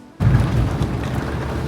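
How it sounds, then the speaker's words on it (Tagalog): Heavy rain pours down on a moving minivan climbing toward Tagaytay from Amadeo, a loud, steady broadband wash of drumming water that starts abruptly and continues without a break. "Ang lakas ng ulan dito sa Amadeo."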